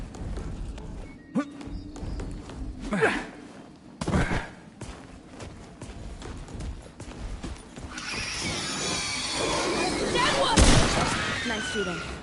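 Gunshots in the video game Remnant 2: a few sharp, separated shots early on, then a louder crackling burst near the end, mixed with game noise and voices talking.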